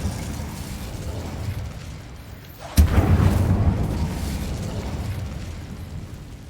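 Incendio fire spell erupting in Hogwarts Legacy: a sudden sharp blast cuts through a low rumbling background, then a loud roaring burst of flame sustains and slowly fades.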